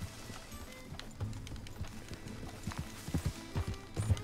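Horse hooves clip-clopping in the Red Dead Redemption 2 video game, a steady run of close hoofbeats that grows louder and heavier toward the end, with no talking.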